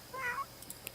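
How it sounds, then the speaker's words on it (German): A cat in The Sims 3 gives a single short, clear meow, close and moderately loud, followed by a few faint clicks with no voices. "Was ist das für Katz?"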